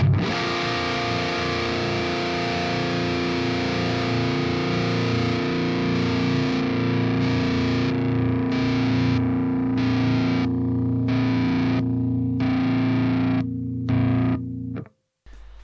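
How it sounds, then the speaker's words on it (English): Heavily distorted guitar chord through the Amped software rings out, cut into choppy on-off bursts as a noise gate is toggled repeatedly, before it stops abruptly. "play a long chord and plug the noise gate on and off"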